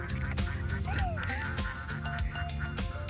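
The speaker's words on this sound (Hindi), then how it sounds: "Look at that duck. It's flying right here." Ducks being fed in a university park call and honk repeatedly in an overlapping chorus, close and busy, with background murmur underneath.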